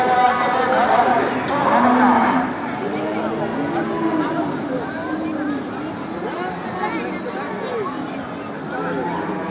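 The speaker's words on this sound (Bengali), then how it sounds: "ভিতরে প্যান্ডেলের ভিতরে আরও অনেক প্রচুর গরু রয়েছে" Many cattle at a large outdoor livestock market, mooing and lowing near and far over a dense hubbub of crowd chatter and voices.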